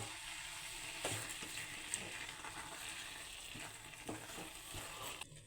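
Carrot halwa with sugar being stirred in a pan, giving a steady soft sizzle broken by irregular scraping and stirring knocks throughout, with no talk.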